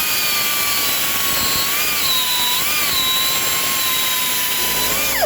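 A rotary tool spins a burr bit into a piece of wood, giving a steady, loud, high-pitched whine whose pitch dips briefly as the bit bites under load, then cuts off at the end.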